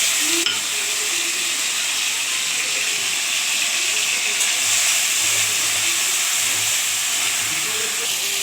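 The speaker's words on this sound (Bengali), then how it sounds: "টমেটো লঙ্কাটা ভালো করে ভাজা হয়ে এসেছে।" Tomato paste and green chilli frying with black cumin in a pan for a spicy lentil fritter curry, a loud continuous steamy sizzle and hiss close up, steady throughout with faint stirring underneath.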